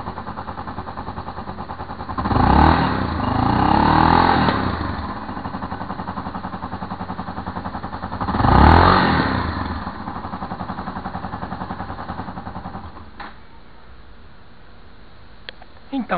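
A Yamaha XT225 motorcycle idles close by, then revs up twice in strong surges before dropping back to idle and finally cutting out near the end.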